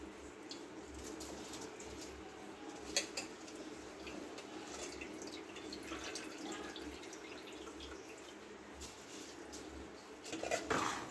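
Rice for prawn pulao is stirred in a pot with oil and yogurt, giving a quiet, continuous scraping and shuffling with occasional louder knocks of the utensil against the pot, without any talking.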